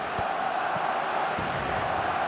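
Stadium crowd in the eFootball video game, a steady, dense roar of many voices holding at an even level throughout, with a few faint thuds underneath and no clear speech.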